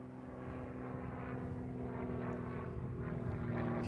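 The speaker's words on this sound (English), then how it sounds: "They're doing a flyover." Steady propeller airplane drone during a flyover, a continuous engine hum that slowly swells louder as the aircraft approaches, with no talking.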